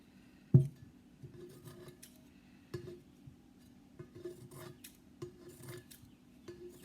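Scissors snipping through fabric while making a fabric tumbler, heard as quiet, intermittent crisp cuts with a sharper snip near the start and softer rasping strokes after it.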